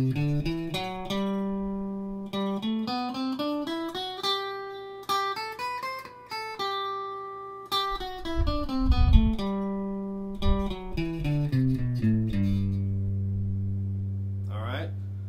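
A guitar plays a major scale pattern one clean note at a time, going up and back down and pausing on each root note, fairly quiet and close, with a brief low thump near the end.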